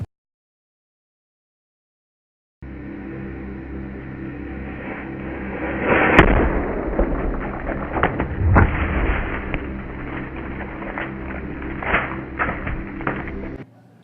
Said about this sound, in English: taking a watermelon, threatening its life with a firecracker